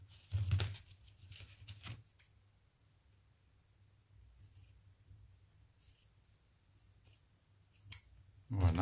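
Scissors snip through wire for a boho Scandinavian-style Christmas wreath, a few sharp close cuts at the start and again near the end, with quiet pauses between.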